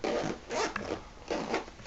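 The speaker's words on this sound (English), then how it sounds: "nice zipper pocket." The zipper on a handbag's lining pocket is worked back and forth in short, close-up rasping pulls, about three strokes with brief pauses between them.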